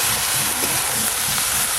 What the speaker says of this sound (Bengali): সর্ষের তেল, তেল তো গরম হয়ে গেছে, কেটে ধুয়ে রাখা বেগুনগুলো দিয়ে দেব।